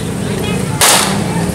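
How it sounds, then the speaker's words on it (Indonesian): Police fire tear gas and warning shots into the air to break up a street brawl in Makassar, Sulawesi; one sharp, loud bang cuts through steady background noise. "polisi terpaksa melepaskan tembakan gas air mata serta tembakan peringatan ke udara"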